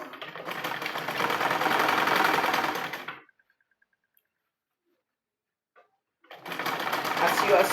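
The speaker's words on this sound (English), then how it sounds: "As you are sewing, you are pulling it out here so that you can get it to meet here." Sewing machine stitching fabric in a beginner's sewing lesson, a steady fast whirring hum for about three seconds, a silent pause, then the stitching resumes, close and clear.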